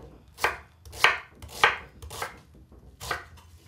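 A knife chops vegetables on a board with five crisp, close knocks at uneven intervals, each a short sharp strike with quiet gaps between.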